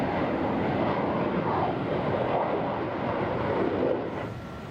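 An airliner lands at Dhaka Airport on runway 14, its engines a broad steady roar mixed with wind rush that holds for several seconds and then fades slightly at the end.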